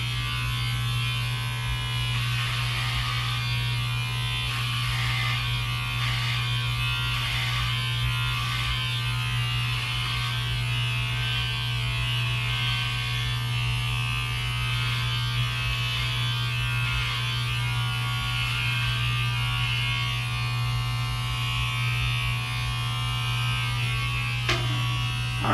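Electric hair clippers buzz steadily and loudly at close range while trimming a receding-hairline buzz cut, dropping from a #3 guard to a #1 guard; a strong continuous hum with a brief click near the end, no talking.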